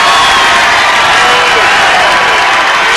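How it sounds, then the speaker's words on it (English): Crowd at a college basketball game between Eastern Oregon University and College of Idaho roars wildly, a loud, dense, unbroken wall of cheering and shouting. "And Voss hops up and crowd goes crazy"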